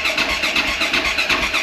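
A car engine cranks and catches after the fuel and choke are opened, then runs steadily at a loud, close, pulsing idle with no talk over it.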